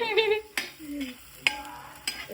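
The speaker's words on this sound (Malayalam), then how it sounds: "പിന്നെ ഉള്ളി വാട്ടുന്നു." Onions sauté in a pan with a steady sizzle, broken by several sharp, close scrapes and clacks as a spoon stirs them.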